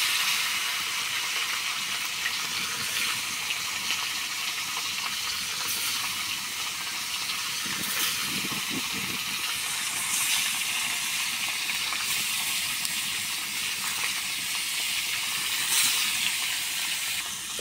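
Tilapia fish frying in hot oil in a heated wok, a steady, moderately loud hiss and sizzle that runs on evenly for the whole stretch with no talking.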